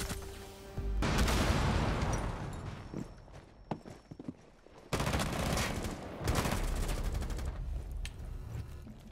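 Gunfire in Rainbow Six Siege: dense, loud bursts of automatic fire in two main stretches, separated by a quieter gap with scattered single shots and footsteps, close and sharp.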